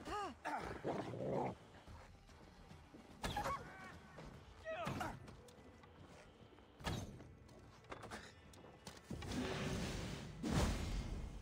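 A dog in Assassin's Creed Valhalla growls and barks in short rough bursts mixed with whooshes and combat thumps, moderately loud, while someone speaks German over parts of it.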